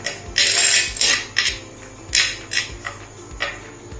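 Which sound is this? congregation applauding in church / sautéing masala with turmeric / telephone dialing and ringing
sautéing masala with turmeric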